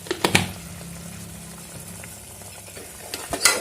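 Tomato biryani masala boils in a pot, giving a steady low bubbling and sizzle with a few clinks of stirring at the start and end.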